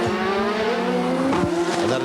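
Brabham BMW Formula 1 car in practice at the 1986 Australian Grand Prix, its turbo engine howling loud and close at high revs, pitch dipping and climbing through gear changes.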